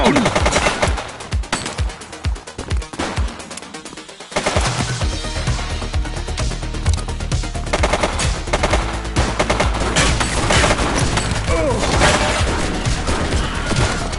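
Sustained automatic gunfire in the police video game The Precinct, sparse sharp shots at first, then a dense, loud, unbroken barrage of rapid rounds.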